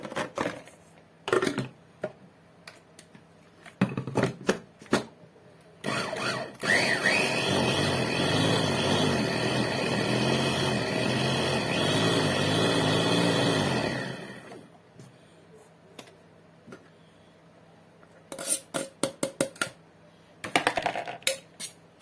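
A food processor grinding onion very finely: a steady loud whirring run of about eight seconds, bracketed by scattered clicks and clatter before and after.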